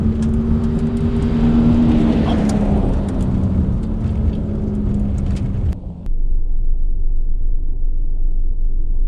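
A 2017 Toyota Tacoma TRD Off-Road on Bilstein 5160 shocks accelerates in second gear, the engine note rising steadily and loudly for several seconds before it cuts off and leaves a lower, steady road drone.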